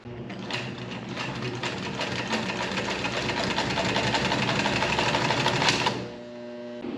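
An old sewing machine with all-metal gears runs at a steady, smooth mechanical whir and rapid needle clatter, fairly close and continuous before stopping, leaving a low hum.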